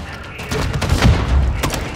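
Sustained bursts of gunfire and booming impacts in the DMZ video game, a dense rattling barrage with heavy thuds under faint voices.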